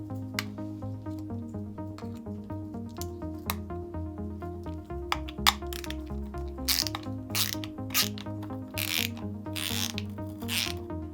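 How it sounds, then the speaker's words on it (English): Nuts loosened on a Smart Station prox card reader, a 5/16 socket turning while a small Allen wrench holds the front of each nut: scattered close metallic clicks and ratchet ticks over a steady musical background, with no talking. "Do so using a small Allen wrench to hold the front side of the nut and your 5/16 socket to loosen the nuts from the back side."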